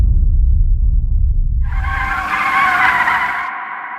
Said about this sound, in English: This car is going to drift through the opening behind me.